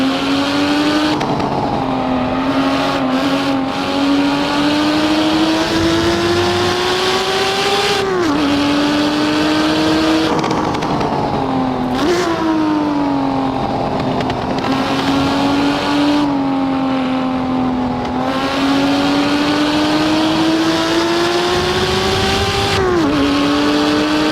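A Lamborghini Miura P400SV's engine in the Assetto Corsa racing game, holding a loud, steady high-revving drone with brief dips at shifts and throttle lifts, continuous and close, with no voices.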